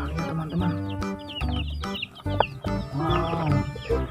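Chickens in a coop cluck repeatedly at close range, with several birds overlapping in short, uneven bursts.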